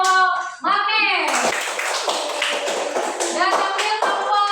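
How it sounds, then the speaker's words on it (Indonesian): Children in a classroom clap together for a group, rhythmic hand claps mixed with excited young voices and chatter, fairly close and lively. "tepuk tangan untuk kelompok magnet"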